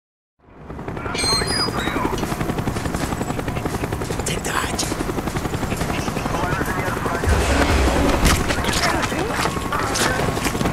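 Helicopter rotor chopping loudly and continuously, close by, in the Call of Duty: Black Ops mission Rebirth, with the steady thump running throughout and faint battle noises mixed in.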